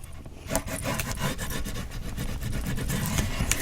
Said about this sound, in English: let's give that a little burnish